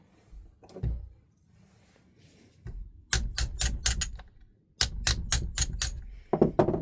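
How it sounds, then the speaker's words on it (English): Metallic hammer blows driving a piston out land in two quick bursts of about five strikes each, sharp and close, with softer clunks and shuffling between them. "I don't want the piston to hit the studs as I'm hammering on it"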